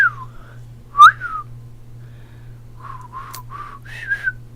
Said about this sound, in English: I've been practicing my whistling,